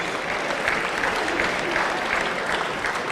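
A crowd at a boxing hall of fame ceremony gives sustained, even applause, a loud continuous patter of many hands with no voices standing out.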